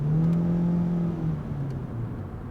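Ford Mondeo Hybrid engine accelerating, a moderate steady drone with a sustained low tone that drops and fades slightly over a couple of seconds, no talking.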